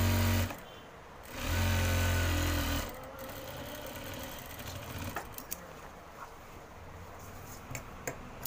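Sewing machine stitching a pocket on a pair of boys' pyjamas, a short loud whirring burst of stitching that stops abruptly, followed by quieter handling noises and faint clicks.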